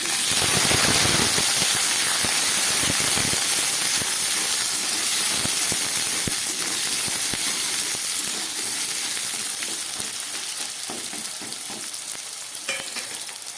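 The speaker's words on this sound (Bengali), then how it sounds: "এই তেলের মধ্যে কেটে রাখা আলুগুলো একটু ভেজে নিচ্ছি" Cut potatoes frying in hot oil in a wok, a loud continuous hissing sizzle with faint stirring taps, gradually easing slightly over time.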